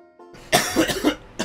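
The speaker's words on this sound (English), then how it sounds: "Sorry for the coughing." A burst of several harsh, close coughs in quick succession, preceded by a faint hum and ending with the start of another cough.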